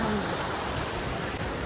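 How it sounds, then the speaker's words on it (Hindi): Rushing water from a waterfall stream on a high mountain trek in windy weather, a steady broad roar that stays constant and close with no clear breaks. "झरना जा रहा है और हवा इतनी तेज़ चल रही है"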